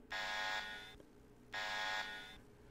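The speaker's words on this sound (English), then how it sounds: "Oh no, our hacking has sounded the alarm." An alarm going off in the video game Planet Stronghold, two long harsh buzzer blasts, each about a second, separated by a short gap, loud and electronic with no voices.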